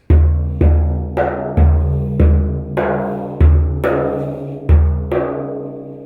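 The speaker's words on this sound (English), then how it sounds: "So let's see how the drum sounds like this" An unevenly tuned, screw-tensioned frame drum is struck about ten times at a steady pace, each deep, resonant hit ringing out; the tone shifts slightly between strikes.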